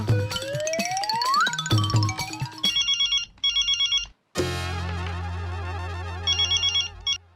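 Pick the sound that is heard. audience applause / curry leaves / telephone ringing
telephone ringing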